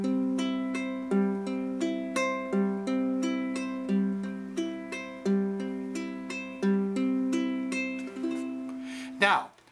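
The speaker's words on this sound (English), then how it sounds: "based on a very simple arpeggio pattern that goes like this" A plucked ukulele plays a steady, repeating fingerpicked arpeggio, notes ringing one after another in an even rhythm, close and clear, ending with a brief scrape.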